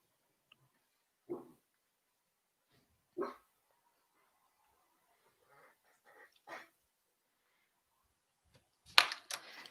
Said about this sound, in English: My dog is angry.